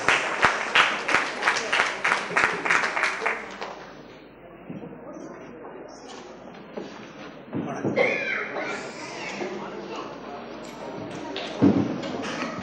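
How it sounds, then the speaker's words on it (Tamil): Audience applause welcoming an artist into a Tamil cultural hall, a dense burst of clapping for the first few seconds that fades out, followed by scattered murmurs and room noise. "உங்களின் இனிமையான கரகோஷம் இந்த மாபெரும் கலைஞனை இந்த அரங்கத்திற்கு வரவேற்க வேண்டும்"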